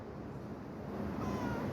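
A cat meows against a dense, steady wash of background noise, its call fairly faint and blended into the constant hiss.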